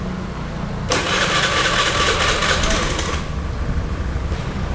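Honda BeAT injection scooter being started during a restoration: a starter burst kicks in, followed by the small engine catching and running at a steady mid-pitched idle, close by, with no talk.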